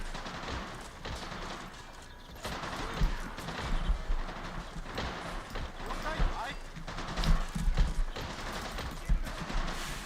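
Explosions and bursts of gunfire from the Men of War war game thump and crackle in irregular volleys, with players talking over the combat throughout.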